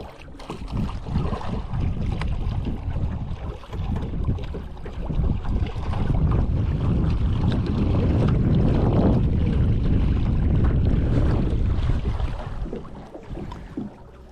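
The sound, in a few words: Gheenoe boat on its maiden voyage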